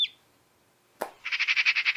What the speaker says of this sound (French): Le poussin piaille.